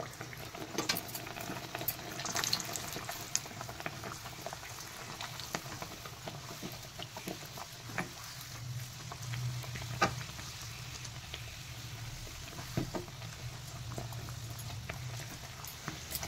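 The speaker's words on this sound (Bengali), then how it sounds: "এই বন্ধুরা, আমি এবারে ভাজতে যাব" Pea-stuffed kachori frying in hot oil make a low, bubbling sizzle with scattered sharp crackles and pops, moderately close and ongoing throughout, with no talking.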